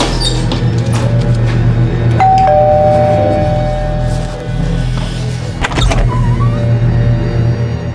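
A doorbell rings clearly in a home doorway, its electronic chime carrying a sustained tone about two seconds in, over a steady low hum with some clatter afterward.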